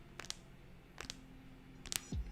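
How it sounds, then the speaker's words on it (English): A few sharp, dry clicks and pops from a cracking wrist joint in quick pairs, fairly close and quiet, with a low creaky crack at the end. "My wrist does sound like this, though."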